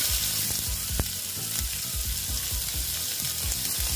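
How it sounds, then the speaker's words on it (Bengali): Onions added to a hot frying pan while cooking potol, a steady loud sizzle throughout with rhythmic low bubbling pops and a few sharper crackles; no talking. "এই যে পেঁয়াজগুলো দিয়ে দিচ্ছি"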